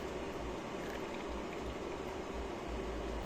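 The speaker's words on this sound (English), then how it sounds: "Heat it with 1 cup coconut milk." Coconut milk heating in a frying pan over medium heat, a steady soft bubbling and simmering hiss that runs evenly throughout, quiet and close, with no talking.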